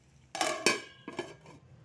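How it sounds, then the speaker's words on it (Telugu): A metal lid set down on a cooking pot in a home kitchen, two or three clattering clanks close by, alone with no talk. "అందాక దీన్ని మూత పెడతాను నేను."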